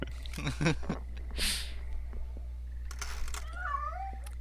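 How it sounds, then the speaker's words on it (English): A cat meows a few times in a video game, short distinct calls with a soft snort-like noise between them, heard clearly over a low constant hum. "It's a cat."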